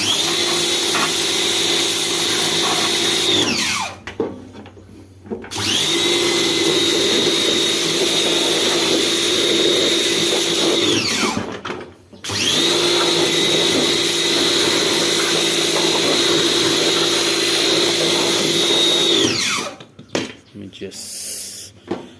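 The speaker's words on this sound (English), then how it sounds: "I have a air gun as well that shoots out hot air" A handheld heat gun blows a steady, loud stream of hot air over a very dirty gas stove, running in long continuous bursts with brief pauses between them.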